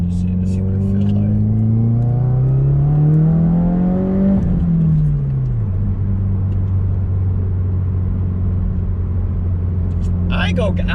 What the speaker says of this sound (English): I'm gonna do like a little second gear pull and just see what it feels like